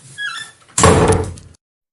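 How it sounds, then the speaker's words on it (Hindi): Heavy cage door slammed shut as a story sound effect: a thin squeak and scrape, then one loud, close metallic crash that rings briefly before cutting off to silence. "उसने झपट कर पिंजरे का दरवाज़ा बंद किया"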